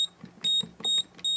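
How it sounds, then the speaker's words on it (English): A Moose Z1100e security system sounds its instant alarm: three sharp, shrill electronic beeps in quick succession, each with a softer chirp between them, close and clear with no talking. "If you want an instant alarm,"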